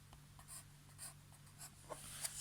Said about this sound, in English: We can write the words for these things.